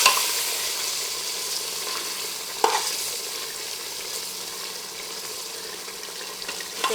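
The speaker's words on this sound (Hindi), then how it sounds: "ये देखिए गोश्त फ्राई हो रहा है, सफ़ेद हो चुका है।" Mutton sizzling and frying in a pan while cooking nihari, a steady dense crackle and hiss throughout with a single sharp clink of stirring partway through.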